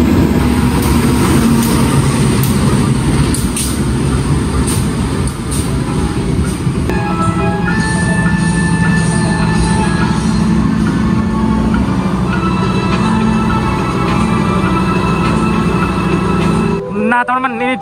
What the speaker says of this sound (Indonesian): ini dia rangkaian kereta api Progo telah masuk